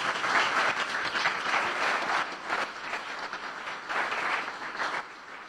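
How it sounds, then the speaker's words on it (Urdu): Loud, sustained applause from a church congregation for children, dense clapping that swells and dips in waves before easing off near the end. "بچوں کے لیے زوردار تالیاں."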